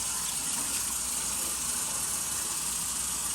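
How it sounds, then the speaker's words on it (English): Warm water splashed onto a face by hand before shaving, heard as a steady close wash of running, splashing water with no talk. "first we're gonna wet the face with warm water with your hands"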